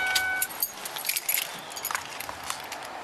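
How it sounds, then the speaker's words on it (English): Car keys jangle and clink as they are handed over during a roadside police stop, a run of bright metallic rattles with short pauses between them. "Turn off the car and pass me the keys, please."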